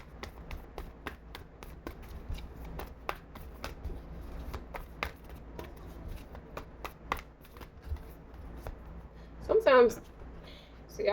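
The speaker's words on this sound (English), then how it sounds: "sometimes, see, I put two decks together, and sometimes it's hard to shuffle them" Two decks of tarot cards being shuffled together repeatedly, a run of quick crisp riffles and snaps close up, with a brief burst of voice near the end.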